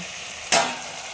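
Hilsa fish head and vegetables hiss quietly in a pan, broken by one sharp, brief stirring scrape in the middle.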